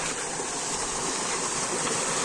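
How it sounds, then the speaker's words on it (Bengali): Steady roar of Shilbunia waterfall in Alikadam, Bandarban, pouring down onto rocks, a dense continuous rush without pause. "উপর থেকে পানি পড়তেছে"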